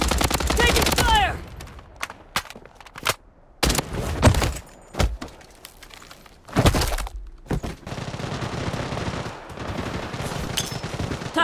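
Gunfire in the mobile shooter Blood Strike Mobile, with a Scar rifle among the weapons: sharp bursts of automatic shots and single cracks in uneven clusters, some close and loud, others fainter, with pauses between volleys.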